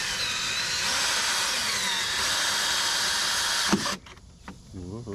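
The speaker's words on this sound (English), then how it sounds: "I'm going to attempt to drill a small area of this steel out of here" Power drill boring out steel near a screw while replacing power tilt motors on a Yamaha F60/F90 outboard, a loud steady whining grind that stops suddenly, followed by a voice talking.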